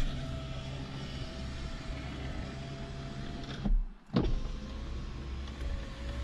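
Power window on a BMW E46 with a newly replaced regulator running smoothly, a steady motor whine over a continuous hum, briefly stopping with a soft thunk as it reverses direction, then whirring again.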